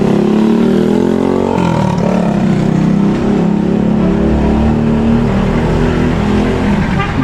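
An old BSA (Birmingham Small Arms) motorcycle engine from the World War II era, powering a Siantar becak, revs close by, loud and throaty, its pitch rising and falling in a continuous growl.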